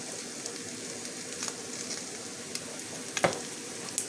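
Seasoned ground beef sizzles and crackles steadily in a frying pan, with a few brief scraping stirs from a utensil cutting through the hiss.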